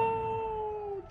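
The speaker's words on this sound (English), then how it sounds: "Great dog." A dog howls in an E3 video game trailer, one long steady tone that holds and then drops off sharply at the end, clear and fairly close, with no talk over it.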